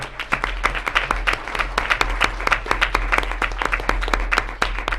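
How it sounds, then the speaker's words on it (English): Applause breaks out at a Sierra Madre city council meeting in January 2020, dense individual claps ringing from a near room crowd, steady and lively over a low constant hum throughout. "So big round of applause for them."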